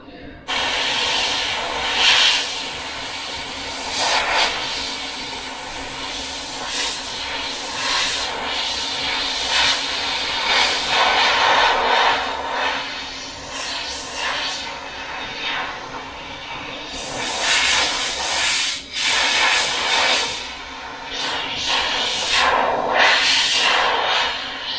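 An airbrush hisses in repeated short bursts while custom painting over 2K clear-coated paint on a 32-inch LED TV, close and fairly loud, with pauses between sprays and faint background noise.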